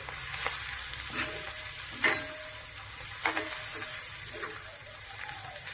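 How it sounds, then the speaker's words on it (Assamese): Coriander and cumin powder sizzle in hot oil alongside onion, turmeric and dried chillies, a steady soft frying hiss with a few brief stirring clinks. "এয়া ধনিয়া আৰু জিৰা পাউডাৰ তেলতে দি লৈছোঁ।"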